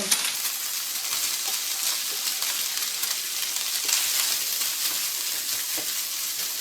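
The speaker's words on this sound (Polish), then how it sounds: "I będę smażyć, aż cebula się zeszkli." Onions sizzle loudly and continuously in bacon fat in a hot pan, a dense steady frying hiss with occasional small pops and crackles.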